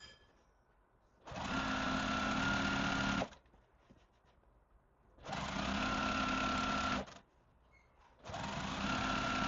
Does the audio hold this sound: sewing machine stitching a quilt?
yes